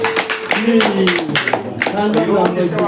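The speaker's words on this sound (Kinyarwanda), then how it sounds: "amashyi menshi rwose amashyi" Applause at a wedding in Kigali, hands clapping in quick, uneven bursts, while a voice talks or sings loudly over it throughout.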